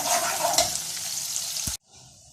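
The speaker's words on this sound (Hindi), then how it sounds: "इसमें 1 मीडियम साइज़ प्याज काट के डाली। इसको ब्राउन करेंगे प्याज को।" Chopped medium onion frying in half a cup of hot oil for keema gives a dense, loud sizzle with stirring scrapes, then cuts off abruptly to a faint hiss.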